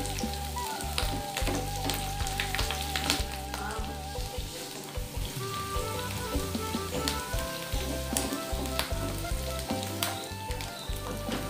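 Celery leaves and leeks sautéing in hot oil in a pan for a beef rib soup, a steady close crackling sizzle with stirring, running continuously with no talk over it.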